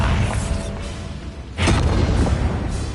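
A Bombarda blasting spell detonates in a Harry Potter video game, a loud low boom bursting in about halfway through and rumbling on to the end over a steady dark background.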